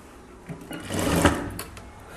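A sewing machine stitches the shoulder seam of a chudithar top in a short burst, its needle rattling rapidly as it speeds up and then slows to a stop, close and clear with no talking.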